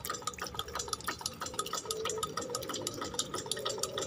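Water sloshing and gurgling inside a working ram pump, with rapid rhythmic knocks and splashes repeating close by at a steady fast pace, fairly quiet overall.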